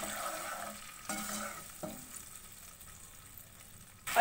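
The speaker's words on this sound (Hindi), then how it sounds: "और इसको मिक्स करेंगे।" Chicken marinade of yogurt and chili sauce being mixed in a bowl for chicken 65 biryani, with soft wet stirring strokes that fade toward quiet before a louder clatter at the end.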